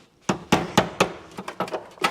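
A hammer tapping on a Porsche 911 to knock rust loose: about nine sharp, close metallic knocks at a fairly even rhythm, with short pauses between them.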